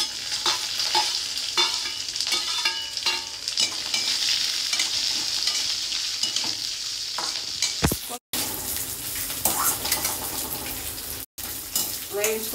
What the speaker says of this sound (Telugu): వేయించుకుందాం సాఫ్ట్ అయ్యేదాకా